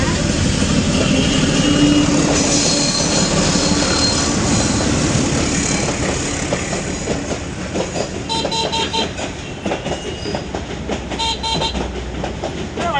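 A train rolls past on a rail line while travellers wait in a CNG auto-rickshaw, loud and continuous, with steady clickety-clack of wheels, brief squeals and a faint horn, over road and background noise throughout.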